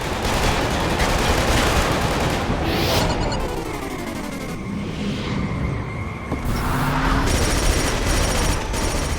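Rapid bursts of gunfire and automatic weapon fusillades in the video game Killzone 2, loud and continuous with booming impacts layered throughout, no talk.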